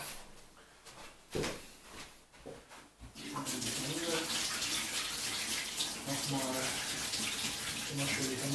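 Kitchen tap running at full flow while hands are washed after shaping çiğ köfte, a steady close rush of water that starts suddenly after a few seconds of quieter handling sounds and continues unbroken.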